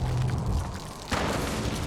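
A frag grenade goes off in Fallout 4, one deep boom with a broad burst around the middle of the clip, over a steady rumble of game ambience.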